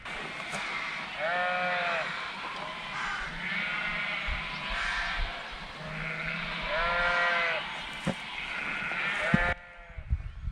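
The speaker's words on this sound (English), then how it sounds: "I don't know if the mic on this is picking up all the sheep, crows, rooks." Sheep bleat repeatedly from several spots at moderate distance at Mill Dale while crows and rooks caw intermittently in the background, a busy outdoor racket without talking.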